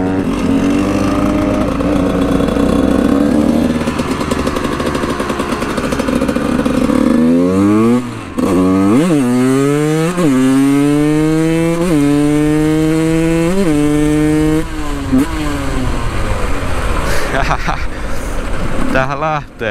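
A Husqvarna SM 125 motorcycle engine, started from cold, idles loudly and close, then revs repeatedly in rising and falling sweeps before settling, with a voice talking over parts of it.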